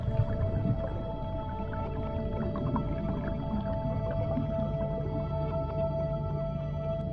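Whale calls heard underwater, drawn-out tonal moans and faint clicks layered over a steady low rumble of ocean and ship noise, continuous and fairly distant throughout.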